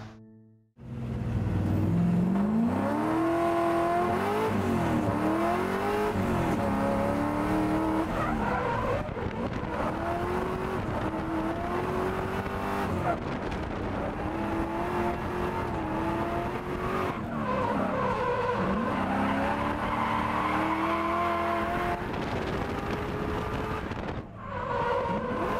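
Nulon Oils R32 Skyline race car lapping a circuit, its engine loud and close throughout with repeated rev rises and gear changes and bursts of tire squeal through the corners.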